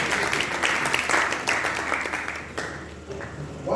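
An audience applauds the chairman at a Nigerian book launch, steady moderate clapping with some crowd murmur, fading slightly before swelling again at the end.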